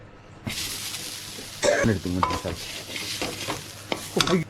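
Grated coconut with turmeric powder and fennel seeds roasting in a pan for a Kerala chicken curry, with a steady sizzle, scraping and clinking of a spoon against the pan, and a few soft thumps.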